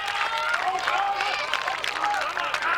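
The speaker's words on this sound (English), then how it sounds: "The crowd is shouting for him." Crowd shouting encouragement at a 1992 World's Strongest Man event during the Husafell stone carry, a dense roar of cheers and yells behind a commentator's voice.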